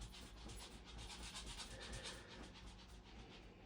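A dog pants rapidly and rhythmically close by indoors, a quiet breathy huffing that continues steadily throughout with no talking.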